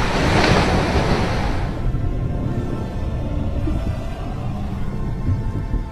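Godzilla swims through water in the Roblox game Kaiju Universe, a continuous rumbling surge of sloshing water with a brighter splash at the start, settling into a steady low wash.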